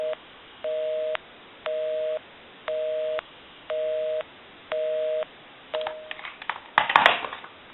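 A busy signal on a Western Electric Trimline telephone: seven evenly spaced tone bursts pulsing on and off, clear and steady, ending in a clatter of handling noise.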